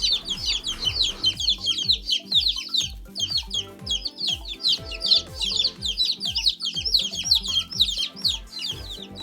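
Chickens cluck and chirp nonstop over a steady, rhythmic low beat.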